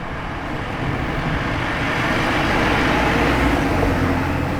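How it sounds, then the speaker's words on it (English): A white Ferrari Portofino test mule drives past on a road near Maranello, its engine a broad, steady roar that swells slightly as it approaches, with some traffic noise around. "And there she goes, the white Portofino!"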